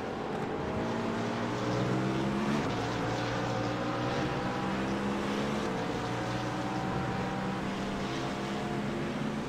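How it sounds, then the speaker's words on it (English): Race car engine from the iRacing simulator during a GT endurance race at Imola, a steady droning whine with shifting harmonic pitch lines sustained throughout, passing nearby at constant loudness. "Yeah, I can hear a car just to my right."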